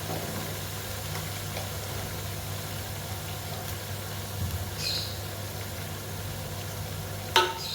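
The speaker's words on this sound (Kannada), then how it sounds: "ಉಪ್ಪಿನ ಪುಡಿ ಹಾಕೋದ್ರಿಂದ ಸ್ವಲ್ಪ ಚೆನ್ನಾಗಿ ಈರುಳ್ಳಿ ಎಲ್ಲ ಫ್ರೈ ಆಗುತ್ತೆ" Onions fry with powdered salt in a pan, giving a faint, steady sizzle under a low background hum, with a couple of brief utensil clinks near the end.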